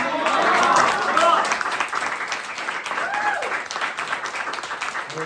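Audience applause for a panel at a political forum on international solidarity, a dense steady wash of many hands clapping in a hall, with some voices calling out on top, fading slightly toward the end.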